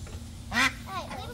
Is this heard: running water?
no